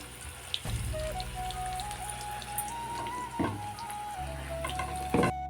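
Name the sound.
frying lentil fritters (bora)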